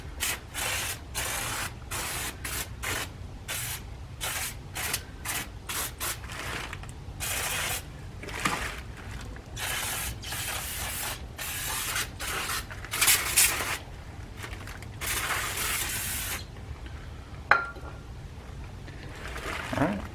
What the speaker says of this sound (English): Go ahead and spray some brake parts cleaner on it